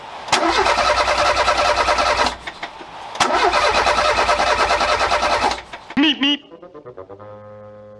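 A Renault 4L engine cranks twice with a rapid starter whir, each burst running about two seconds, then catches on the second try and settles into a close, steady idle.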